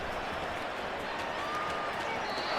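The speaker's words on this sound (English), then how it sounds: "And the home crowd loves it." A steady, loud roar of a home stadium crowd cheering in Madden 24 after a touchdown and two-point try by Washington, with broad, unbroken noise and scattered applause throughout, no speech.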